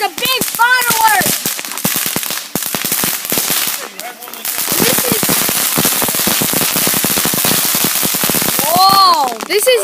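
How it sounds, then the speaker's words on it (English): Backyard Fourth of July fireworks crackle in dense rapid bursts of pops, some with whistling squeals, loud and continuous, while excited voices talk and exclaim nearby. "Okay, guys, a big firework."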